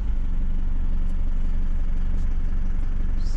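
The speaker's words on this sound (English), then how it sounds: "Start up the vehicle." A car engine idles steadily after starting, a continuous low rumble with a faint hum that holds even from start to finish with no voices.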